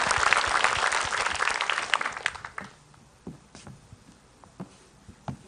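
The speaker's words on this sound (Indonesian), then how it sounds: "tepuk tangan buat Ustaz Syam" A studio audience at an Islamic television program applauds for a preacher: dense clapping for a couple of seconds, then fading into a few scattered, isolated claps.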